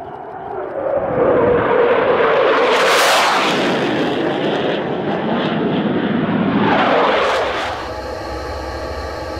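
Fighter jet engine roar as a military F-15 flies past, a loud broadband rush that swells twice, then eases back to a steady drone, with no voices present.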